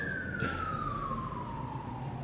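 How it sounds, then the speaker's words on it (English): An emergency siren passes outdoors on a busy city street, a single wailing tone sliding steadily downward as the vehicle moves away, over a low rumble of traffic. "you can hear sirens right now. I'm gonna let that pass."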